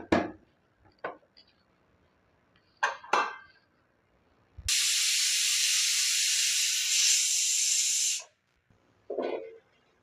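A loud, sustained hiss of escaping steam from a pressure cooker whistle in a kitchen runs for several seconds, preceded and followed by scattered clinks and brief noises.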